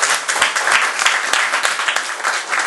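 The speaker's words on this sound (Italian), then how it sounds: "C'è un applauso di benvenuto." Welcoming applause from the audience at an evening talk, a steady dense wash of clapping sustained loudly throughout without any voices.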